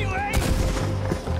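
Gunfire at a boat in Red Dead Redemption 2: a loud, close burst of shots crackles across the clip after a brief lead-in, with heavy low rumble beneath the reports.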